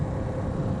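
A motorbike engine idles high at about 4,000 RPM, giving a steady low drone that stays even and fairly faint the whole way through.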